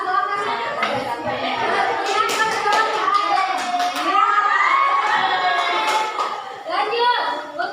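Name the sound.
children's group clapping and cheering for winners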